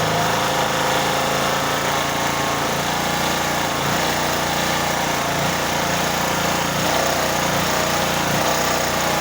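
A generator converted to run on LPG, its small engine running loud and continuous with a rough, uneven surge as the throttle hunts and jumps, no voices over it.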